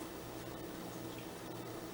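Water is poured steadily into a container, a continuous gurgling, splashing fill heard close and fairly quiet, running evenly throughout with no speech over it.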